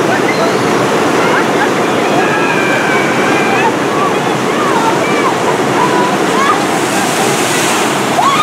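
Rushing water at the Penguins Blizzard River rapids ride at Six Flags America, a loud, continuous roar of churning, splashing water with a person talking over it.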